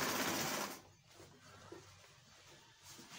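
An industrial sewing machine stitches fabric for a child's agbada, its dense, loud whirring rushing at the start before dropping to a softer, steady mechanical hum.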